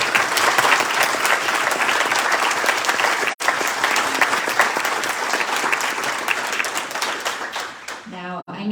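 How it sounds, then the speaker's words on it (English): A huge round of audience applause for healthcare providers at an awards night, loud, dense clapping sustained for about eight seconds before cutting off abruptly, with a brief voice at the end. "we'd like to give the healthcare providers in the room tonight, and those who aren't able to be with us, a huge round of applause."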